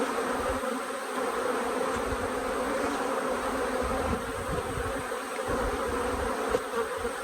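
Honey bees buzz around a hive frame with a queen cage, a dense, continuous drone close by with no voices.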